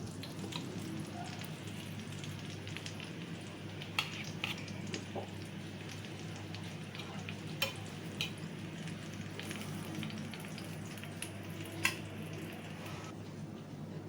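Chicken kebabs fry on a tawa with a steady, soft sizzle throughout, broken by a few sharp ticks and pops as they are pressed flat; no voices.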